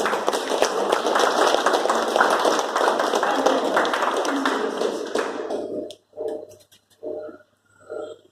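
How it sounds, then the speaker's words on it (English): An installation ceremony audience gives a sustained round of applause, a thick, loud, even clatter of many hands for about six seconds that stops abruptly, followed by short bursts of a voice speaking. "let's have another round of applause"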